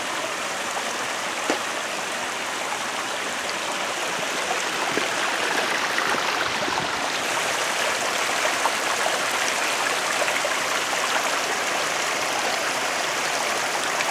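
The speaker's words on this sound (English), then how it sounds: "We're coming to a little unnamed creek here that flows off this hillside. I always like the sound of running water." A small unnamed creek runs down a hillside near Annette Lake, a steady close rush and babble of water that holds even and unbroken throughout, with no voices.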